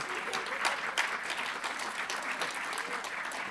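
Sustained applause from an event crowd greets the organizing committee on stage, a thick, even patter of many hands clapping at moderate volume for several seconds without pause.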